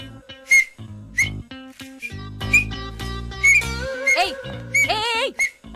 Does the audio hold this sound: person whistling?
yes